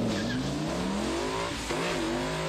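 A Ford Mustang used as a mule car drives past at speed, its engine droning steadily with a pitch that climbs and then dips, loud and close with no talk.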